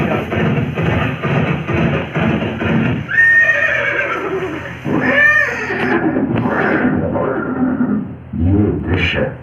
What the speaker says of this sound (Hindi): ये दृश्य महाराणा प्रताप और सुविख्यात स्वामी भक्त घोड़े चोटक के अंतिम मिलन का है